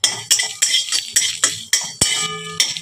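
Cumin seeds and dry red chillies dry-roast in a metal pan while a utensil stirs them, making sharp, regular scraping clinks, about eight strokes close up.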